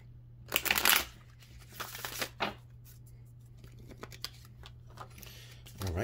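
Oracle cards are shuffled in close, crisp bursts of riffling and sliding over a steady electrical hum, with quieter handling between and a short swell near the end.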